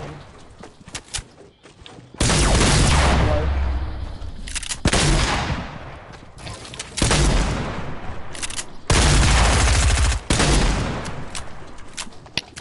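Heavy video game shooter gunfire comes in long, loud, booming volleys separated by short gaps, with scattered single shots between, close and dominant with little talking.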